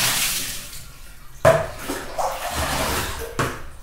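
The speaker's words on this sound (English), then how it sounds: "In the evening, I clean the bathtub and then take a bath." Water splashes and runs in a bathtub during cleaning, a soft hissing flow broken by sharp sloshes and splashes at close range.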